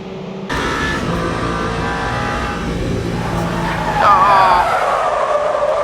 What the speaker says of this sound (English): Big slide here, we lose the rear end.